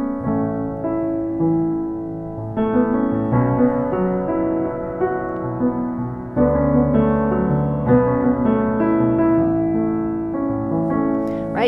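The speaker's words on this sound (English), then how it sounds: "make it an instrumental, a solo piano song" Solo piano instrumental of a song, the melody carried in the right hand over sustained chords, playing steadily and fairly loud throughout with no voice.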